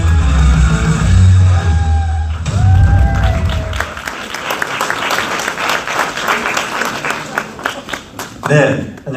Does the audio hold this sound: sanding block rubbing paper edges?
no